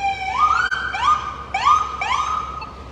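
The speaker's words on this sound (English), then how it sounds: "We got an ambulance going by." An ambulance siren wails past in repeated rising electronic sweeps, about four cycles in three seconds, loud and close with a steady hum beneath and no talk.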